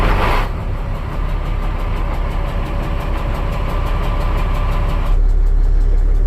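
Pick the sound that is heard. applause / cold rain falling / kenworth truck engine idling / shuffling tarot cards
kenworth truck engine idling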